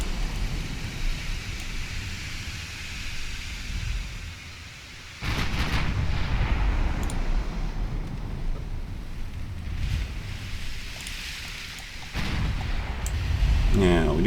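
Warship gun turrets fire in the naval game Ultimate Admiral Dreadnoughts, two heavy booming salvos that roll into a sustained rumble over a constant wind-like sea wash.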